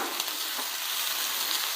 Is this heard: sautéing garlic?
yes